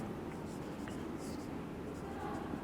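Pen scratching across paper as an active voice sentence is written out during a Class 9 English grammar lesson, a soft continuous scribbling close by over steady room noise.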